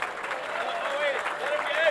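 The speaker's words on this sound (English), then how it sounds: "How about a big round of applause for both of these boxers?" Applause for two boxers after a bout at a state finals event, crowd clapping mixed with cheering and a faint whistle, with a voice briefly audible over it.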